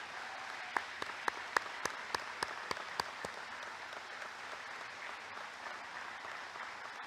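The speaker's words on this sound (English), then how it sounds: "please stand while we give them a round of applause and thank them for their service to our country" Audience applauding military veterans standing at a California Aeronautical University graduation ceremony, faint and distant scattered clapping with a few sharp, separate claps standing out before fading away.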